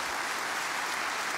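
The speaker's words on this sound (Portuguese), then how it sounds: "Vamos aplaudir a Jesus?" A brief burst of audience applause during a televised evangelical church program, a dense wash of clapping over little more than a second.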